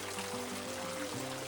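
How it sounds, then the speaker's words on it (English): Slow trickle of a waterfall spilling down Garrison Natural Bridge, a natural stone arch in Pulaski County, Kentucky, giving a steady, soft wash of falling water with no one talking. "this is the waterfall that's coming down Garrison Natural Bridge"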